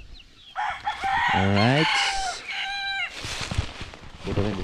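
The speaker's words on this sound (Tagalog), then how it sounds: "Mga healthy yung manok natin dito" Chickens on a rooftop farm, a rooster crowing loudly and close with clucking hens around it, while someone talks briefly in the background.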